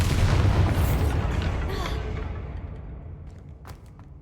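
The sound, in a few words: Bombarda spell explosion from video game Hogwarts Legacy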